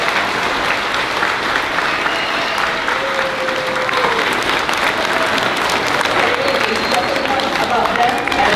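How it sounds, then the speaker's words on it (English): Families clap in a sustained, dense round of applause at a 5th grade moving up ceremony, steady throughout with a crowd murmur beneath. "can you please give your families a round of applause?"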